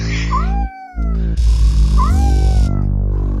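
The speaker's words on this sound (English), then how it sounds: "it's got some meowing going on as well in the background" A cat meows twice in a rising, drawn-out call, close and fairly loud, with a harsh, gong-like crash of noise sounding between the two meows amid dense background music.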